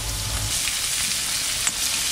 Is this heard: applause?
no